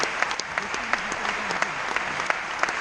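A festival audience applauds as jury members are introduced, a continuous patter of many hands with sharp individual claps standing out and a voice faintly underneath.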